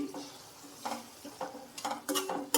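Onion paste is stirred and fried in a pan for grass carp fish curry: quiet, irregular scraping strokes of a spoon against the pan over a soft sizzle, several strokes bunched near the end.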